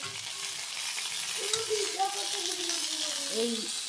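Homemade pitha rice cakes fry in mustard oil, making a soft, continuous sizzle, while a faint voice-like tone drifts in the background.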